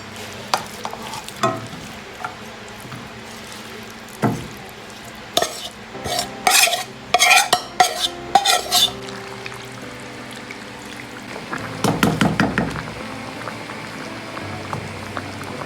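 Thick cornmeal being stirred and turned in a pot for Jamaican-style cou cou, with scraping, knocking strokes in irregular bursts over a low bubbling simmer, close by.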